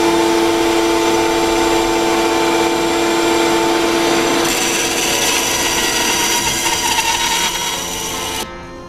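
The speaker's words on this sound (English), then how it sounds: "we're gonna run that through the bandsaw" A bandsaw cuts curved wooden boards for a chest lid, a steady, loud whine with a rasping cut that runs almost unbroken, shifting slightly midway and stopping abruptly near the end.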